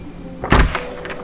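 A door swings open in a dramatized audio story, a single short burst of latch and creak, fairly close and loud against a quiet background, with no talking.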